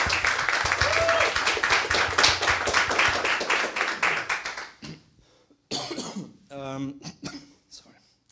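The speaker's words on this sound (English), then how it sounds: "I think there we can applaud." An audience at the Sonoj 2024 audio convention applauds for several seconds with dense, steady clapping that thins out and stops, followed by a voice speaking.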